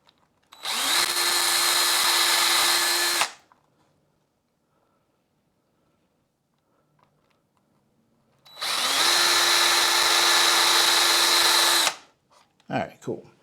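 A power drill bores small, shallow screw holes into a pinball controller cabinet, in two loud steady whirring bursts of about two and a half and three and a half seconds separated by a quiet pause, with a few faint knocks at the end.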